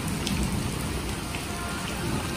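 Steady rain falls in a monsoon, a dense continuous hiss of drops on surfaces, close and unbroken.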